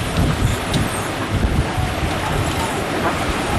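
Steady, loud wind at sea aboard a sailboat making 6.5 knots in 25 to 30 knot winds, a continuous broadband roar with low buffeting rumble and no voices.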